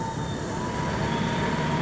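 Rail inspection trolley shunting at Garut station, a steady rumbling rail-vehicle drone with a faint high tonal whine, continuous and moderately near throughout.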